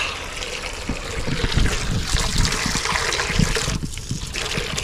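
Water runs and splashes steadily at close range, a continuous gushing stream with no voices over it.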